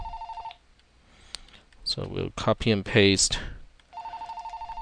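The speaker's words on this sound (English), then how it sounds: "Oh, excuse me, that's a phone ringing." A telephone rings in a repeating electronic pattern at the start and again at the end, with someone talking in between during a programming tutorial.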